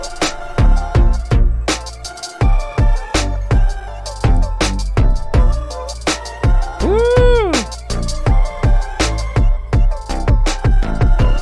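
Electronic game music track with steady drums, bass, lead and pad layers, a loud continuous beat with a brief pitch-bending swoop partway through, no talking.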